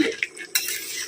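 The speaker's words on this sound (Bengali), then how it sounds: "এই যে চিকেন কষাতে বসিয়েছি" Chicken sautéing in a pot, with a soft sizzle under a couple of metal utensil clinks and scrapes against the pot, brief and close.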